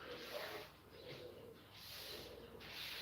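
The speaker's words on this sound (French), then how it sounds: "les pigeons, ils prennent jamais un seul jour de congé. Hein. Il faut qu'ils vous tannent du matin au soir." Pigeons coo softly and repeatedly, somewhat distant and faint, over a steady wash of background noise.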